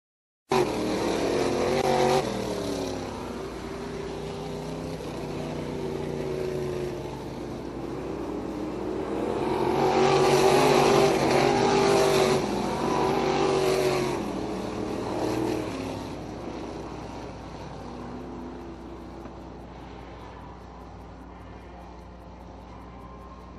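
Crate 602 race cars roar around an oval track, with a dense engine drone that swells as the pack passes close and then fades into the distance.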